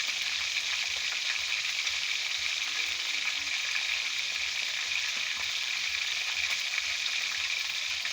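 Food fries in a pan with a continuous, even sizzle that stays steady and fairly loud throughout, with no talking and no other sounds standing out.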